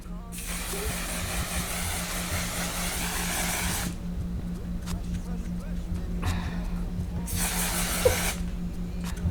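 One Size setting spray misting onto a face in two long, steady aerosol hisses, close and loud, with a brief gap between them and a voice talking over the quieter stretches.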